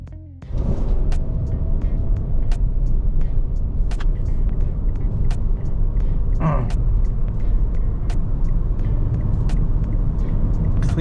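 A Mitsubishi Xpander GLS under full-throttle acceleration, its engine a loud, sustained rumble droning steadily from inside the cabin, with a few faint clicks and a brief tonal sweep partway through.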